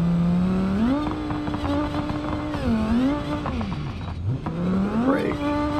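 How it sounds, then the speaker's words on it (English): Off-road car engine revving hard with wheel spin on sand in BeamNG.drive, Johnson Valley desert terrain; a loud continuous engine drone rises and falls in pitch as the throttle surges, with no talk over it. "Lots of wheel spin from being on the sand."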